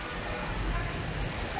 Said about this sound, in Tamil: செம காத்தோட மழை பெய்யுது